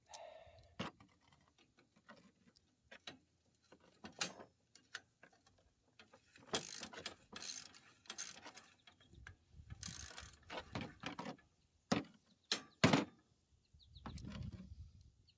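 A ratchet with a 1/2-inch socket tightens a rusty bolt, sending bursts of rapid clicking strokes that start and stop across the span, fairly close and clear with no talk.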